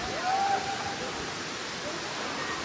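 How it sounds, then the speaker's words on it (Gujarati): A waterfall at Pavagadh pours in a steady, even rush of white noise, soft and continuous, with a faint voice briefly audible near the start. "કેટલો ગજબનો અહીંયા વોટરફોલ પડે છે"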